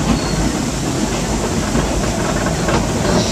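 The Frisco Silver Dollar Line train runs with a loud, continuous rumble and rattle of cars on the track, heard from on board and close up.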